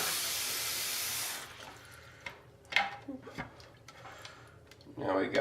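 Hot water runs from a tap into a sink with a steady rushing hiss that drops back to quieter splashing and dripping, with scattered clinks and knocks nearby.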